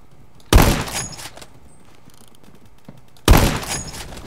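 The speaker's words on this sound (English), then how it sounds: "Alright, 1903. A gun I can slow snipe with." Two loud M1903 bolt-action rifle shots in a shooter game, spaced nearly three seconds apart, each a sharp crack with a short echoing tail, quiet between them.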